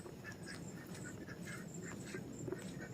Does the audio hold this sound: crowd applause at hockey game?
no